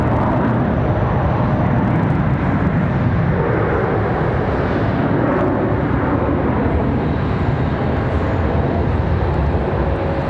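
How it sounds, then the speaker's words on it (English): A US Airways airliner rolls down the runway at Charlotte Douglas airport, its jet engines giving a loud, steady broadband roar that holds for the whole stretch without letup. "US Airways rolling to Denver."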